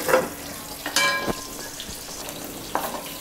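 Bitter gourds fry in oil in a pan, a soft continuous sizzle broken by a few sharp clatters of utensil stirring, with no one speaking.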